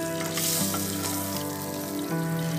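Hilsa fish head frying in hot oil in a pan, a steady loud sizzle with crackling spatters and a few stirring movements, no voices.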